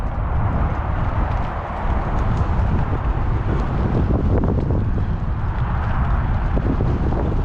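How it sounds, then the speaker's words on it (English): Strong wind roars constantly across the microphone while cycling up a steep, long hill on a rural Texas loop, loud buffeting rumble with no letup and no talk. "So we got the wind coming directly out of that direction, maybe a little off that way, but we're fighting it for sure."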